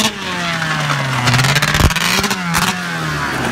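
A rebuilt Arctic Cat ZR440 snowmobile engine revving nearby, a loud, buzzing two-stroke drone that rises and dips in pitch with throttle blips and rough, uneven running.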